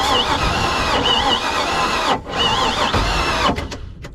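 A cold ski boat engine with a carburetor is cranked on a weak battery. The starter whirs and labors in steady bursts with short gaps, and the engine never catches. It sounds close and loud, with no talking.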